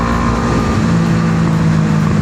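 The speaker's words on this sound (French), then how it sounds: "Accélération à fond." Honda CB500 PC26 motorcycle from 1995, its engine pulling hard at full throttle from low revs in second gear, a steady loud drone with a rising tone throughout, no talking.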